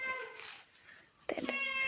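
A cat gives two drawn-out meows, close and clear, the second rising and more insistent, with a brief human voice between them.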